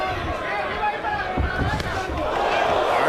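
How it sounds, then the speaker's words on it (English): A crowd at a professional boxing match between Timothy Bradley and Jessie Vargas rises in a swelling murmur of oohs and reactions, a broad roar of many voices under close commentary speech. "Crowd oohing and eyeing."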